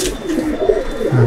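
Pigeons in a pigeon loft coo close by, low repeated throaty calls overlapping in a steady murmur.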